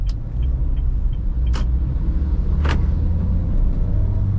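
A Honda Brio car pulls away with its engine steadily gaining revs, a continuous low rumble filling the cabin, with a couple of brief clicks and soft knocks over the drone.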